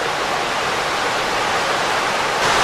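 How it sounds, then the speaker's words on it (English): A river seen through trees beside the Cold Run Trail in Worlds End State Park, Pennsylvania, with a small waterfall nearby, giving a steady, dense rush of flowing water that fills the whole stretch without pause. "The river."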